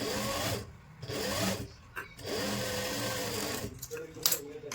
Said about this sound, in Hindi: ये सिलाई हम दोबारा से लगा रहे हैं ताकि कहीं पर भी आपको लगे कि बाजू की सिलाई में गोलाई अच्छे से नहीं आई है